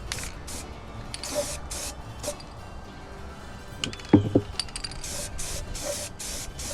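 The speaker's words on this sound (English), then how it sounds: "So I'm gonna paint this real quick, backside, trying to cover my welds." Aerosol spray paint hisses in short repeated bursts onto the welded back of a metal bracket, nearby, with faint clicks of the can between passes.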